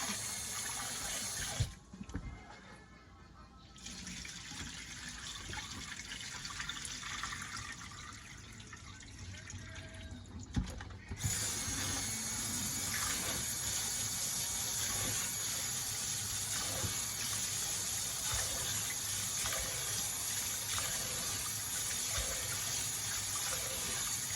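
Fish being rinsed in a bowl of water, a steady run of tap water splashing and gushing close by, with a brief lull near the start before the flow returns and carries on.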